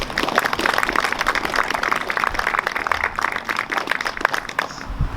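Outdoor crowd at a town flag-raising ceremony gives community leaders a steady round of applause, dense clapping sustained for several seconds and tapering near the end.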